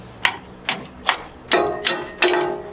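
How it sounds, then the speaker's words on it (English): Six sharp impact strikes land at a steady, slightly uneven pace, each a bright crack with a short ringing tail, close by with no talking. "Hammer to the rescue"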